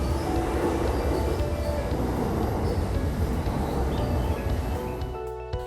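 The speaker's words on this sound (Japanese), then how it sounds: "もちろんこんな感じで電車の走行が可能に製作されています" An N gauge model train runs along elevated Chuo Line track with a double crossover on a detailed city diorama, a continuous close rolling rumble with light rail squeal that fades near the end, with no talking.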